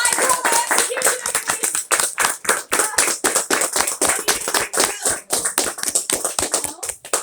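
A small tour group claps for an actor playing an executioner, with loud, close, uneven hand claps and taps in a brisk flurry throughout.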